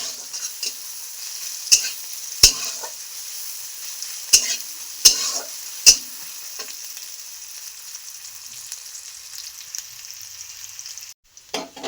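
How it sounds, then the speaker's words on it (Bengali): Chopped onions sizzle steadily in hot oil in a pan, with a soft constant frying hiss broken by several sharp scrapes and clinks of a spoon stirring, close and clear, with no voices. "তেলটা গরম হয়ে গেছে, দিয়ে দিচ্ছি আমি পেঁয়াজ কুচি"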